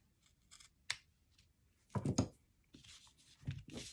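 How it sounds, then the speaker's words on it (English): Scissors cutting felt for a snowman ornament, several close, crisp snips in uneven bursts with quiet pauses between them. "So I think I can cut off a little bit of that."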